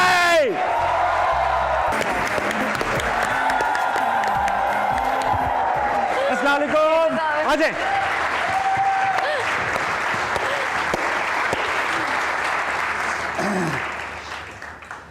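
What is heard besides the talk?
audience applause and cheering welcoming a guest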